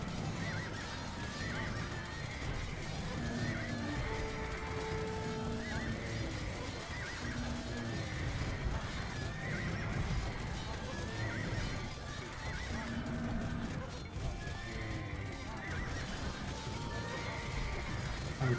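Horses whinny repeatedly in a video game battle over steady clip-clopping hooves and a dense, continuous din of battle sounds including cannons.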